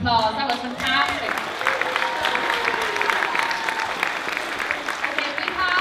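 Audience at a live talent show breaking into a full round of applause, dense sustained clapping with some cheering, loud and steady throughout, with a voice speaking over it at the start.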